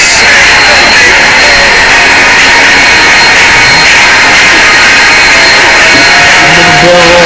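Continuous loud whine and roar of Airbus A380 jet engines in a flight video game while the big airliner barrel rolls, a dense sustained drone with someone talking over it.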